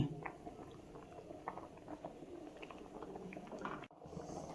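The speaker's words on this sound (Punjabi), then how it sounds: "ਇਸ ਤਰ੍ਹਾਂ ਰਿੱਝੀ ਜਾਂਦੀ ਹੈ ਆਪਣੀ ਬਸ ਆਪਾਂ ਚੌਲ ਹੀ ਰਝਾਉਣੇ ਆ" A pot of rice simmers for carrot rice kheer, bubbling and popping steadily with a soft, continuous liquid burble, close and moderately loud; a brief stir or clatter breaks in near the end.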